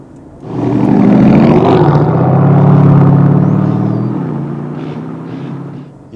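A 2024 Porsche Cayenne S twin-turbo V8 burbles loudly at low revs in a tall gear, a deep, gargling rumble that swells then slowly fades, with no talk.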